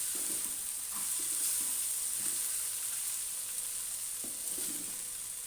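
Masala spices sizzle and fry in a pan for dhaba-style bhindi masala, a continuous soft crackle with occasional stirring scrapes and no voices.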